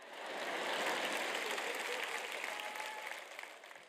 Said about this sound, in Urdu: کم از کم یہاں ایک شخص موجود ہے جو تالی بجا رہا ہے۔